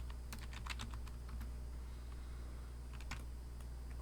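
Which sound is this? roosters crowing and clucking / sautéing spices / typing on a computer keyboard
typing on a computer keyboard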